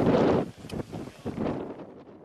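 Wind gusting across the Natadola Bay Championship golf course in fine but windy weather, a broad rushing buffet that is strongest at the start, then eases into softer uneven gusts.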